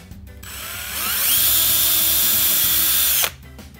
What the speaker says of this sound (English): Once I get these holes drilled, I'll use that as a pilot hole to drill a 3/32nd hole